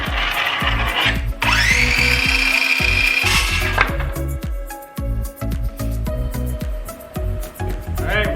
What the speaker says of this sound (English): Gavin's gonna start cutting plywood.